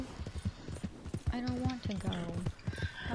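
A horse in Red Dead Redemption 2 clip-clops with quick, rhythmic hoofbeats and a brief whinny, heard under a nearby person talking.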